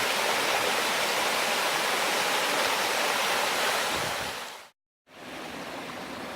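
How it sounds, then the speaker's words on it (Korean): Water pouring down a waterfall in a mountain valley at Ssanggok, a dense, steady rushing roar close by that cuts out briefly near the end before resuming. "여기서 물이 이렇게 떨어지는데 아주 좋습니다"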